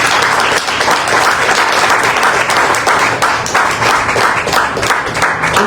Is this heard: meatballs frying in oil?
no